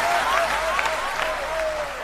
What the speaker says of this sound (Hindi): तालियों की गूंज से हौसला बढ़ा दो आप